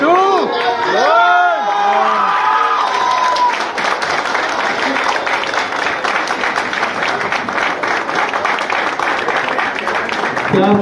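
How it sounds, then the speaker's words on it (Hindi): Audience at a Chhattisgarhi film poster launch bursts into loud, sustained applause with some cheering, after a few seconds of whooping shouts and voices at the start. "एक बार जोरदार तालियां हो जाए"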